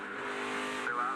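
A NASCAR race car engine at Indianapolis holds a steady, loud droning tone under throttle control, with pitch rising slightly near the end of a brief burst.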